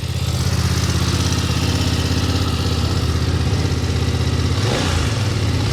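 Steady, close idle of a BMW F 900 XR motorcycle engine, a low, even throbbing rumble that holds throughout with a brief change near the end.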